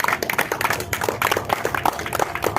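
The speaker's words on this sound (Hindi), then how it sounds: "एक बार जोरदार ताली हमारे सर के लिए।" An audience at a World Theatre Day event in a theatre space claps for an honoured guest, a dense, lively round of hand claps with scattered louder slaps, filling the room evenly throughout without any voices.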